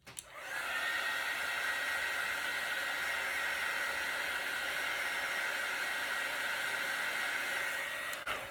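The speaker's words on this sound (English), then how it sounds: "now we will hit it with the heat tool" A heat tool blows steadily onto wet paint mixed with black cell activator, a continuous loud airy whoosh with a bright whine held for about eight seconds before cutting off.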